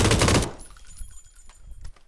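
A short close burst of automatic gunfire from the PUBG video game, dense and loud, then cuts off into faint scattered sounds and low noise.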